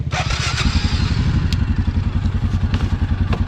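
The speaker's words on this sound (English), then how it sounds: "Now, how does the Kingquad drive?" An older Suzuki KingQuad ATV chugs along in low gear, its engine a steady, close, rhythmic thumping putter with a few light clanks and rattles riding on top.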